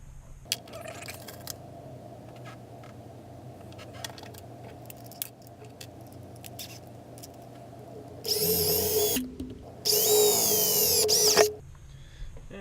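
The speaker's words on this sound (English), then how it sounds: "Now we're going to repeat the same process as before with drilling the pilot holes to the top board bigger than the pilot holes in the lower board." A cordless drill bores pilot holes into wooden boards, two loud whirring bursts of a few seconds each after a stretch of quieter handling clicks and taps, close to the microphone, with no talking.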